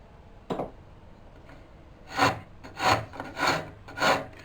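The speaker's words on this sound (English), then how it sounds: "I need to file a little bit" Wood being filed with a rasp while shaping a part for a Morris chair, one stroke followed by four close, evenly paced rasping strokes with short gaps between them.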